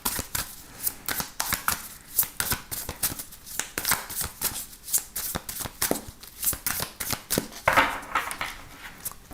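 A deck of tarot cards shuffled by hand, a close series of rapid riffling bursts and crisp flutters in an uneven rhythm, with no talk.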